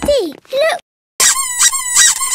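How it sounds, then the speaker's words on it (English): A rubber duck gives bright, high squeaks in two quick bursts, a short gap, then a longer run of rapid squeaking, loud and close. "Look for something that makes a squeaky noise."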